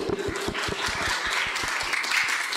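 An audience at an interactive religious dialogue claps in a brisk, continuous round of applause, sharp individual claps audible near and clear.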